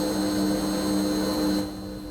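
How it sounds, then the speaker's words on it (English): Loud, steady jet engine drone from an airliner in the X-Plane 10 flight simulator, heard right beside the engine at night, a constant roar with strong tonal hum that eases slightly near the end. "we are right next to the engine. That is extremely loud."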